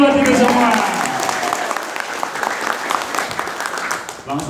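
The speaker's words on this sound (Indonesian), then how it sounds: "Dan tepuk tangannya kenceng semuanya buat kita semua." Loud, sustained applause from a seminar audience on Islamic business free of usury, dense clapping filling the room with a voice carrying over it throughout.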